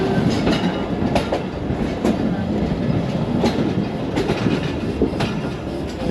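A Subak Raftar railcar train pulls out of Lala Musa Junction, loud and steady, its wheels clicking rhythmically over rail joints beneath a continuous rumbling roar.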